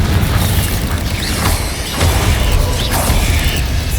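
A Confringo spell blast in Hogwarts Legacy roars as a loud, sustained explosive burst with whooshing surges and crackling debris, continuous and close throughout.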